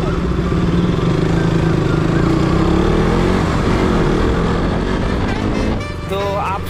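KTM RC 200 motorcycle ridden on a road, its engine droning steadily and loudly throughout with a shifting pitch, wind and road noise mixed in, easing slightly near the end.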